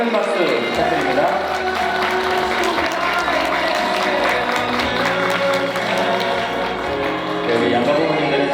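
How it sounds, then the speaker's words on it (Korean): Applause at a wedding ceremony in a hotel hall, guests clapping loudly and continuously throughout with scattered cheers, the crowd noise dense and close. "네, 우리 다시 한번 큰 박수 부탁드립니다."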